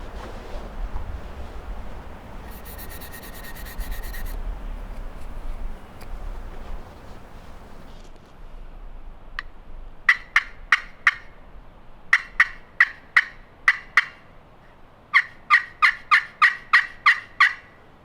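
A wild turkey gobbles during a late-season public-land hunt: a faint, distant gobble early on. It is followed by clusters of sharp, rhythmic yelping calls rising clearly above a quiet outdoor background.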